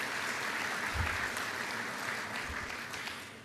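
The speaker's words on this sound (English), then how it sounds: "Let's give them a round of applause too." Audience at an evening oration giving a round of applause to the Amati Quartet, a dense, even patter of many hands clapping in a large room, sustained and then tapering slightly toward the end.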